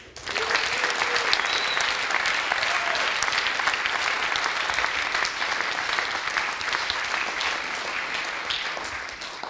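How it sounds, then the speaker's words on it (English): A conference audience at a closing session applauds the event's sponsors with steady, sustained clapping that fills the room at an even level, with faint voices mixed in and a slight tapering at the end. "I would like to start off with a big applause to all of our sponsors"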